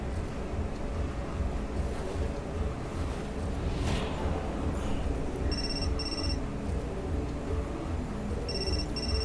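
A phone rings in the game Still Life 2, two short electronic trilling bursts and then another, high and fairly faint, over a constant roar of wind and surf-like ambience.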